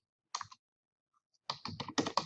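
Keystrokes on a computer keyboard as a word is typed into a drawing title block: a short burst of clicks, a pause, then a denser run of quick, close taps.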